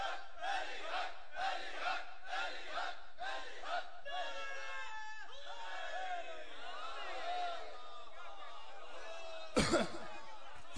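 Crowd at a religious majlis in Khanewal chanting a slogan, repeated loud rhythmic shouted bursts from many voices giving way to a sustained roar, then a sharp loud burst near the end.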